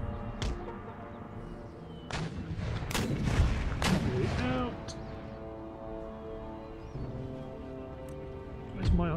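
Cannon fire from artillery batteries in the strategy game Empire: Total War, several booming blasts in an irregular cluster at a moderate distance, then a quieter stretch before one more shot.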